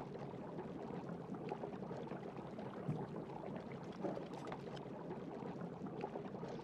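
Smelting ore bubbling in a furnace in the medieval game Life is Feudal: a faint, steady, low burbling and rumbling that runs through the whole stretch without pause.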